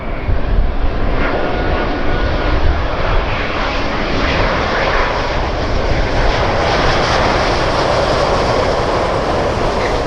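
A Singapore Airlines Airbus A350-900 coming in to land on runway 07L at Tan Son Nhat airport, a loud, steady jet roar that holds for the whole stretch without any talking.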